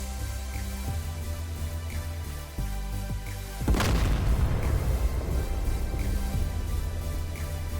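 A heavy bomb blast from a Su-25T Frogfoot air strike in the flight sim DCS World, a single deep boom that breaks in sharply over a droning cockpit hum and rumbles on in a long decaying roar.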